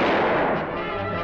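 A cartoon gunshot from a Woody Woodpecker episode: a single loud, sharp blast that fades over about a second, with no talking.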